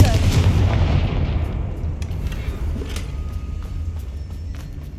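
A Confringo explosive spell from Hogwarts Legacy blasts with a loud, close boom that rolls into a long, fading rumble, with small scattered impacts afterward.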